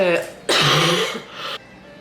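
A harsh, raspy cough from a person recovering from COVID, close up, following a brief bit of voice and fading into quiet breathing.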